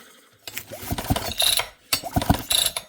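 Two quick pulls on the starter cord of an old Poulan 5200 chainsaw produce ratcheting, whirring mechanical bursts with a brief pause between them, close and clear with no engine firing.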